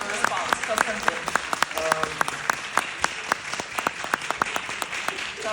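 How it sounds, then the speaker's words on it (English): Audience applause at an academic lecture on democracy, a moderate wash of clapping with distinct individual claps popping through, while a voice speaks over it. "thanks for your applause"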